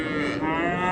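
A cow moos loudly and close at a livestock market in Jizzakh, one sustained, tonal low call lasting the whole moment.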